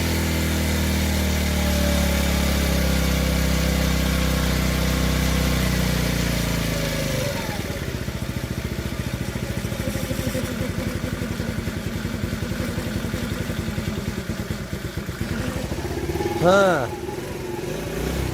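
A TaoTao 50cc Chinese scooter engine runs loud and close, a rough buzzing idle that shifts into a rapid, rattling revving as it kicks up, with a brief surge near the end.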